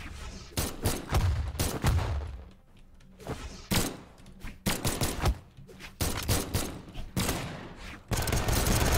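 Rapid bursts of gunfire and weapon impacts from a Brawlhalla fighting match, loud and dense, repeating in clusters across the whole stretch with brief lulls between volleys.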